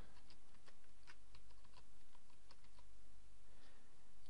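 Password being typed on a computer keyboard during a manual WordPress install: a steady run of light key clicks with irregular rhythm, close and clear over a low steady hum.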